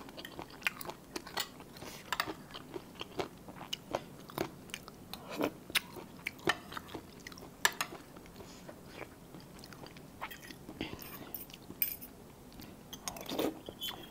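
Close, crunchy bites and steady chewing of a spicy Thai straw mushroom chili dip eaten with steamed rice, repeated in an irregular rhythm, with occasional light clinks of cutlery or a plate.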